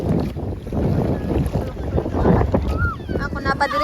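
Strong wind buffets the microphone on a moving boat off Pandao Island in Bohol, with rushing water and engine rumble, and faint voices underneath.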